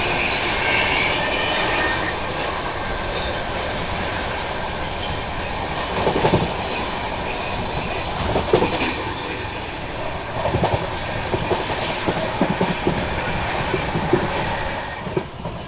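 The Brahmaputra Mail express train rolls along the rails near Prayagraj, a steady loud rumble with rhythmic clickety-clack of wheels over joints and occasional heavier thumps, heard close and continuous without talk.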